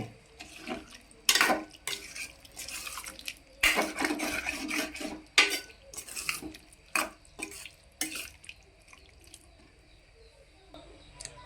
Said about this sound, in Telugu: దీన్ని కలుపుకుందాము